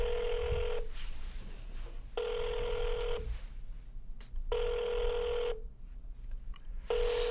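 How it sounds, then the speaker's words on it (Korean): Ringback tone on an outgoing international call to Hanoi, four evenly spaced buzzing rings, each about a second long with pauses between, heard faintly down a phone line without talk. "네, 지금 이제 벨소리가 가고 있고요."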